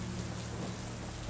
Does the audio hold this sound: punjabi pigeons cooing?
no